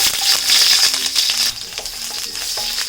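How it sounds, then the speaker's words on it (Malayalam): Garlic crackles and sizzles in hot oil in a pan, a steady, close, bright frying hiss with small pops and stirring clicks, and no voices. "അപ്പോൾ ഇതിലേക്ക് ആദ്യം തന്നെ ഞാൻ വെളുത്തുള്ളിയാണ് ഇട്ട് കൊടുക്കുന്നത്."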